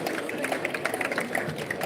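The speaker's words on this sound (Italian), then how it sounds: "un applauso anche per loro" A crowd at a Veneto volleyball celebration claps for the Pallavolo Zevio team, a steady patter of applause throughout the brief moment.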